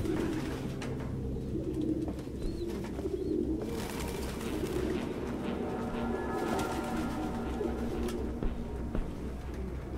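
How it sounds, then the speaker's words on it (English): Pigeons coo in a cluttered apartment nest in the video game Detroit: Become Human, several birds cooing and fluttering over a dense, steady background hum, close and continuous, with no talking. "No human could live with all these fucking pigeons."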